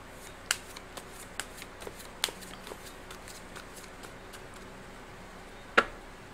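Tarot cards are shuffled by hand in a quiet room, giving a series of soft riffling flicks and sharp snaps, with a louder slap near the end and no talking.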